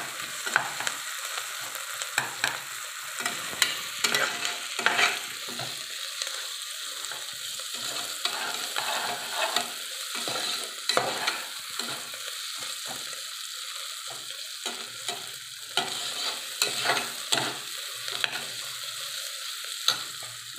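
A spoon stirs veg biryani ingredients in a pan, scraping and clattering in irregular bursts over a low sizzle, close and fairly loud, with no talking.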